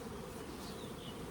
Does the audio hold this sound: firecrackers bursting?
no